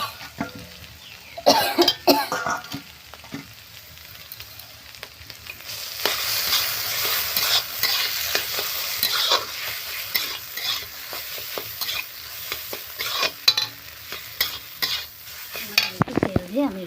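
Ground lentil paste fries in oil with onion, ginger and garlic, a steady loud sizzle while a utensil stirs and scrapes the pan, with an occasional cough and clatter nearby.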